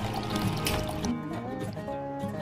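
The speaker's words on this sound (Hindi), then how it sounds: "ये देखो, हम पौधों में पानी दे रहे हैं।" Water poured onto garden plants in a small farm plot, a steady liquid trickle and splash running continuously at moderate loudness, thinning out partway through.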